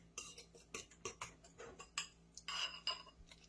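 A spoon stirs tartar sauce in a bowl, making a quick run of close, light clinks and scrapes against the side in an uneven rhythm, with no talking.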